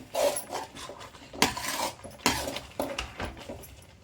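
Egg curry masala being fried and stirred in a pan, with a spoon scraping and knocking against the metal in irregular strokes, close up and fairly loud, and nobody talking.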